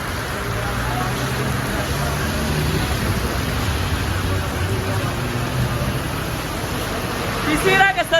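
Heavy monsoon rain driven by stormy wind in Karachi, a dense, steady roar of downpour lasting throughout, with a few brief sharper sounds near the end.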